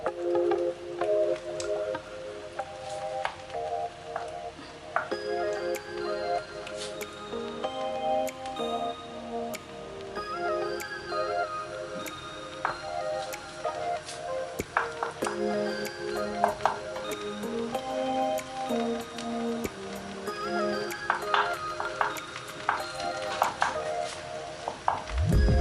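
Rice with vegetables being stirred in a pan with a utensil, producing steady close-up ticking, scraping and soft squishing taps over a continuous sizzling background, with no talk.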